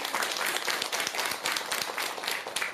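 Dense applause from a seated audience at a Korean Buddhist temple Dharma talk, many hands clapping together in a loud, continuous wash that holds steady throughout, no one speaking over it.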